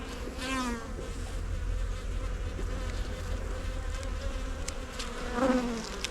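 Honeybees hum in a continuous close buzz while a hive is opened for inspection after a swarm, with individual bees droning loudly past now and then.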